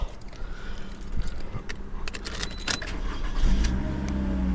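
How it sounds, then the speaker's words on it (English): A 2018 Toyota RAV4 engine runs at idle nearby, a low steady hum with a few scattered clicks and a brief rise in the rumble toward the end. "All right, so the car runs."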